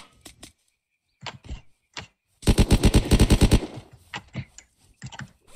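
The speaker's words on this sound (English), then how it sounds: "We're getting shot at." Rapid automatic gunfire in the video game Unturned, a dense burst of about a dozen loud shots lasting roughly a second, framed by scattered single shots and short cracks before and after.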